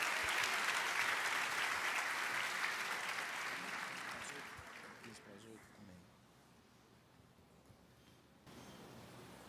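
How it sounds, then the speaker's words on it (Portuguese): Church congregation applauding a visiting pastor, a broad sustained wash of clapping that stays loud for several seconds, then thins and fades away toward the end. "você pode aplaudir ao Senhor"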